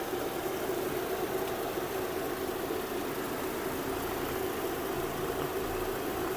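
A 2007 Audi A4 B7 with a 1.6 MPI petrol engine idles smoothly without misfiring, giving a steady, even hum that stays constant throughout, close by and with no talking.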